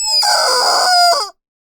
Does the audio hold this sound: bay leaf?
no